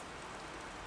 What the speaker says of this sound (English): The raindrops fall from the rectangular opening